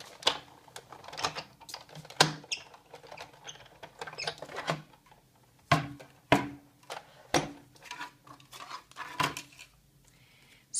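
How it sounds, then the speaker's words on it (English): A square Thinlit die cuts a window in Cherry on Top Designer Series paper, giving a run of crisp irregular clicks and snaps with brief quiet gaps, close by and heard without talk. "I'm going to die cut a window in the Cherry on Top Designer Series paper"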